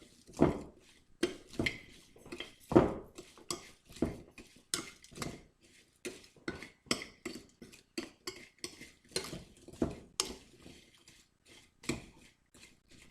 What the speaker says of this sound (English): we just mix that all together